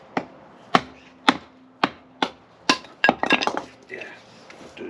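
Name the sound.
self-made 15N20 steel knife splitting wood for kindling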